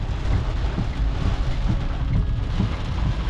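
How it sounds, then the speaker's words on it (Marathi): Heavy rain pours down while someone drives with the parking indicators on, a dense steady roar of water with a low rumbling drone beneath it and no voices. "एकदम नाक खोळा पाऊस पडतो इथे."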